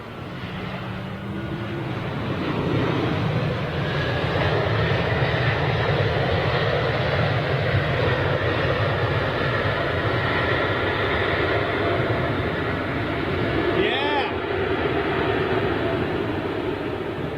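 A Swiss Airbus A220 with Pratt & Whitney PW1000 engines lands and opens its reversers, a broad, loud roar that swells and holds steady for many seconds.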